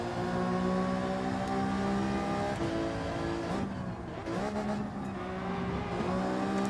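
A racing car engine in Gran Turismo 7 drones loud and steady at high revs, briefly dropping pitch around a shift or lift before climbing again, with no talk over it.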